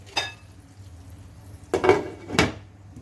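A metal lid is set onto a cooking pot holding brinjal and potato curry, giving a few sharp clanks: one near the start, then two close together toward the end, near and moderately loud.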